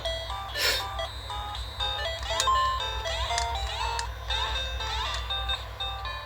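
Chiptune-style bleeps and a simple looping Mario melody from a used Game Boy Pocket, steady and fairly close, with a low hum underneath.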